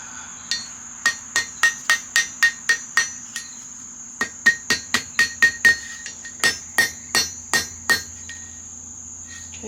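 A long, rapid run of hammer blows on metal while forging a coat rack, each one sharp and ringing, steady with a brief pause midway.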